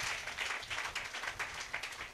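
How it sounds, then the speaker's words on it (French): A church congregation at a French-language service applauding and cheering in praise; steady, fairly faint massed clapping throughout, with no voices standing out. "Donnez-nous une acclamation"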